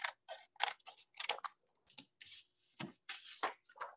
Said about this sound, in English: you can use X-Acto knife or scissors